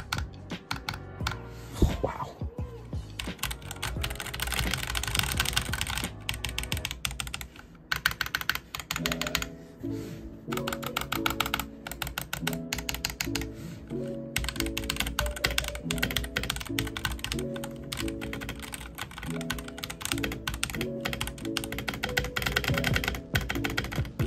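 Typing on a Redragon K631 Pro compact keyboard fitted with yellow switches, a dense run of rapid clicky keystrokes held close and steady for the whole stretch, with faint background music beneath.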